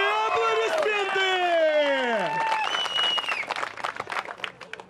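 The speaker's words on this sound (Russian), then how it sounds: "И аплодисменты!" Audience applause after a fight. A drawn-out, rising-and-falling shouted voice comes first, then a crowd's clapping swells and rattles on to the end.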